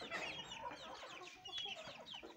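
A Lasani breed hen clucks repeatedly up close, giving short chattering calls in quick succession with other fowl faintly in the background.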